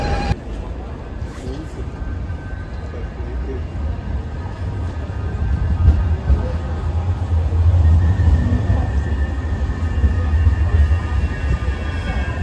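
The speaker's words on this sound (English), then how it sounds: "Arrived at our second tram stop" A city tram in Manchester travels between the Market Street and New Islington stops, a continuous low rumble and rattle of wheels on rails that swells midway, with people talking over it.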